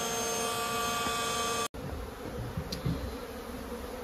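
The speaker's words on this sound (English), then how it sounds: "There's more bees." A large swarm of honeybees buzzing inside a barn in Jarrell, Texas, a dense continuous hum close by, with a brief dropout partway through.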